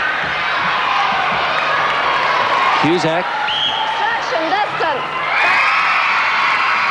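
A netball crowd at a 1996 Mobil National Super League match cheers for Sydney Energy, a steady roar with whoops and a ball bounce beneath a commentator's voice.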